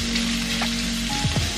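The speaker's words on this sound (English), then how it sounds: "you basically just let that fry on medium to high heat for a little while" Tofu and peppers frying in a pan over medium to high heat, a steady close sizzle and crackle throughout with a few brief clinks or stirs near the end.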